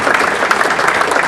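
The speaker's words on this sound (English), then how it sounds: "So let's give them a round of applause." Audience applause at an event about game timing, a dense even wash of many hands clapping that holds steady and fairly loud for the whole short stretch.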